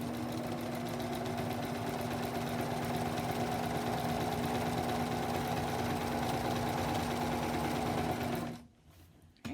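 A sewing machine stitches a row of quilt pieces in a steady, fast, even hum with a rapid needle rattle that runs for about nine seconds and then stops abruptly, with no talking.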